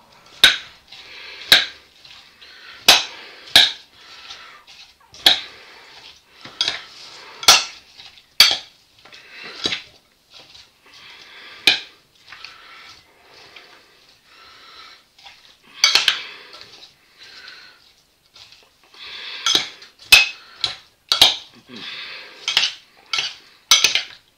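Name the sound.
stirring potato salad with mustard in a dish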